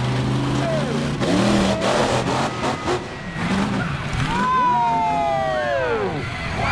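At an extreme stunt show in Oban, a monster truck crushes cars with loud roaring engine and crunching metal, amid a noisy crowd, shrieks and an announcer's voice.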